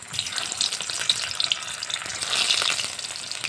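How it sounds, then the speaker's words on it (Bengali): Potatoes frying in oil for chicken biryani, a steady close crackling sizzle with no talk. "এরপর আলুগুলো ভেজে নেব"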